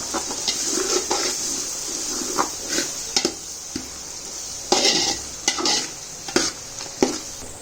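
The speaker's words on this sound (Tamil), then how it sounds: "பிரியாணி மசாலா எல்லாத்தையும் ஆட் பண்ணிட்டு நல்லா கிளறி விட்டுருங்க" Biryani masala for chicken biryani is stirred in a metal cooking pot, giving intermittent scrapes and clinks of a spoon against the pot at an uneven rhythm. The sounds are close, with no talking.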